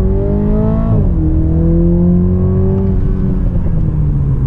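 A Toyota GR Supra 2.0 accelerating hard at full throttle, its loud engine note rising steadily in pitch, dipping at a gear shift near one second, then climbing again through the next gear without any talk.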